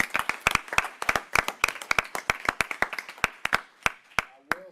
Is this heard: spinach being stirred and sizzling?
no